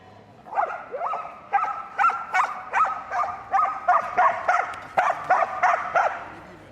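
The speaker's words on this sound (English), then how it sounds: "So, Martin Reed's in next, working Spring, a Border Collie, 3 years of age" A three-year-old Border Collie barks and yips repeatedly at a Crufts agility competition, a fast, excited series of sharp barks close by over a faint arena background.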